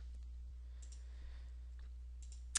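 A computer mouse gives a few sharp, close clicks, spaced apart over a quiet background with a low hum.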